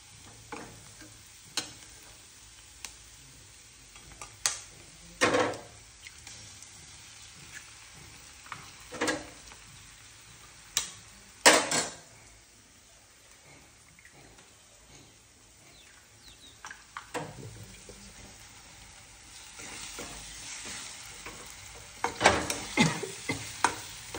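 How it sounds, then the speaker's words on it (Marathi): Country eggs fry in oil for egg bhurji, a faint steady sizzle broken by repeated sharp spatula scrapes and taps against the pan, close and without talk. "आता मस्त तेलात परतून घेतलंय छान छान. आता हे अंड गावरान अंड"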